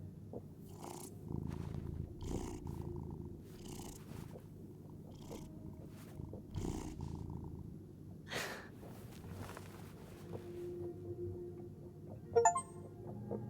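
Petted cat in Life is Strange: Double Exposure purring steadily, a low soft rumble punctuated by scattered rustles and brief clicks, with a short brighter blip near the end and no speech.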